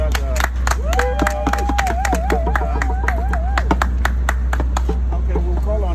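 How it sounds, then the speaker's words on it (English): Protest crowd outside the UN headquarters in New York clapping for a speaker, with scattered sharp claps over a steady low hum and a voice singing or calling out across the middle. "give another hand of applause to Secretary Chris"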